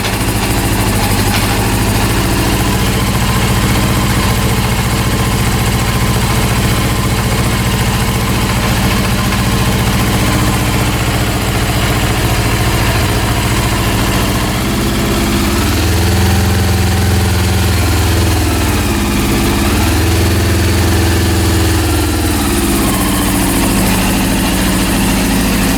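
Honda CB400 motorcycle engine idling at low RPM after a rebuild indoors in a room, a loud steady mechanical drone with a brief dip and rise in pitch partway through, no talking.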